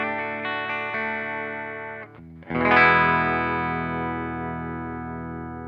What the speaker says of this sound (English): That reverb is just right, yeah? Just a nice tail, never gets in the way.